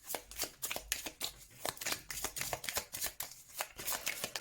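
A tarot deck is shuffled up close in quick repeated riffles and snaps, a crisp flurry of card noise, fairly quiet and with no talking.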